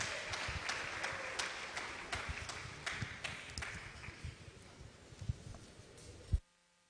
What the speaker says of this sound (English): Please a round of applause for him.